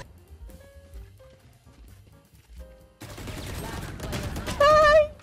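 Gunfire in Valorant on the Lotus map breaks in after a quiet few seconds of faint game tones, then rattles loudly in rapid bursts with a brief louder surge at the end.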